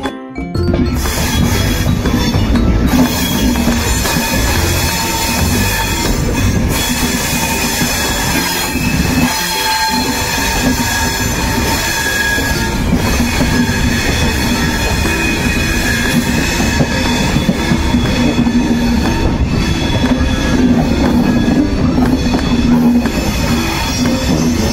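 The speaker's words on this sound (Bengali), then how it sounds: "12056 দেরাদুন নিউ দিল্লি জনশতাব্দী এক্সপ্রেস।" 12056 Dehradun–New Delhi Jan Shatabdi Express running at speed, heard from on board as a steady, loud rumble of wheels on rail with intermittent squealing and faint clatter throughout.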